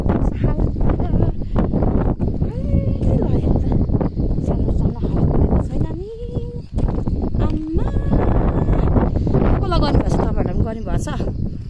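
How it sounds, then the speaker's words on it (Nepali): Strong wind on a hilltop buffeting the microphone in loud, continuous gusts, with people talking underneath. "हावा सुन्नु यस्तै हावा कुदेको छ कस्तरी दम"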